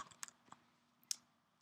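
A few faint, crisp clicks from typing on a computer keyboard, spaced irregularly over a quiet background with one sharper keystroke near the end.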